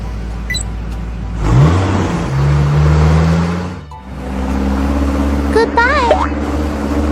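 A cartoon truck drives off with a steady engine hum that rises and falls, its motor revving briefly, while a voice talks over it and a short chirpy whistle-like sound chimes in near the end.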